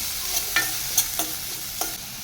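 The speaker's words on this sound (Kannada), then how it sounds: "ಸಣ್ಣದಾಗಿ ಹೆಚ್ಚಿಟ್ಕೊಂಡಿದ್ದೆ ಒಂದು ಈರುಳ್ಳಿನ ಅದನ್ನು ಕೂಡ ಇವಾಗ ಹಾಕ್ಕೊತಾ ಇದ್ದೀನಿ ಇದನ್ನು ಸ್ವಲ್ಪ ಫ್ರೈ ಮಾಡ್ಕೊಳ್ಬೇಕು" Finely chopped onion and cumin fry in a pan with a continuous sizzle, while several sharp stirring scrapes of a spoon cut through at irregular intervals close by.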